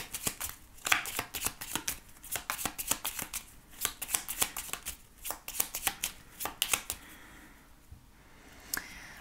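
A deck of 32 playing cards is shuffled close by, crisp rapid riffles and snapping bursts repeating in quick uneven rhythm, with no talking.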